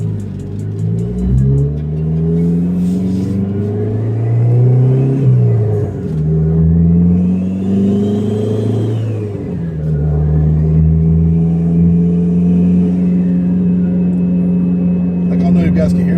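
A 2005 Dodge Neon SRT4 with a turbo boost leak, its pipe come off, revving up and down in several rising and falling sweeps, loud and close, with a voice talking over it.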